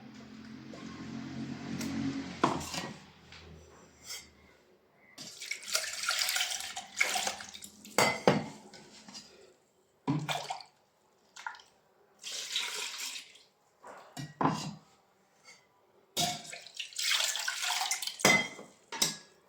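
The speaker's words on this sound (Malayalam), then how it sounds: "മിക്സിയുടെ ജാറൊക്കെ കഴുകി നന്നായിട്ട് കഴുകി" Water runs and splashes in bursts while a mixer grinder jar is rinsed and scrubbed, with occasional clinks of the jar, close by.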